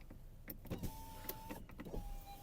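Power windows on a Volkswagen Golf Plus run in short, quiet electric whirs with faint clicks, heard close inside the car.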